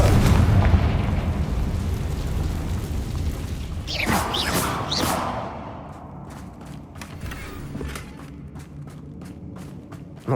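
A Confringo fire spell explodes in Hogwarts Legacy, a heavy booming blast with rumbling crackle that swells, then gives way to a run of sharp snapping pops as it fades.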